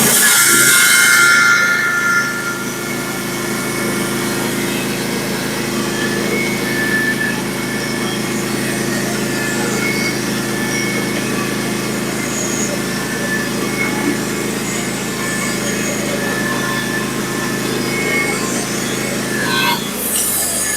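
A sawmill saws through a log, cutting it into boards. A loud, sustained mechanical roar holds steady for about twenty seconds, with a sharper burst at the start and another at the finish.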